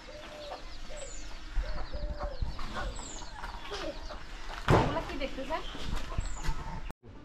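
Several chickens cluck and call repeatedly at moderate distance in a village on the bank of the Halda River, with ducks nearby, other birds chirping and a person talking in the background.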